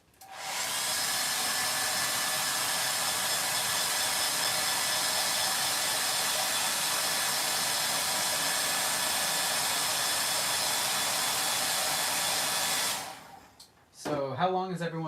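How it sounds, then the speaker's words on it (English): A blow dryer drones loudly and steadily for about twelve seconds, then cuts off, and a voice follows. "Blow dryer again."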